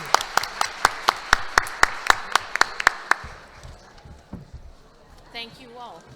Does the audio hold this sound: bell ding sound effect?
no